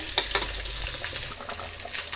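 Onion tempering frying in hot oil with rock salt for a sambar, a loud continuous close sizzle with crackling bursts throughout.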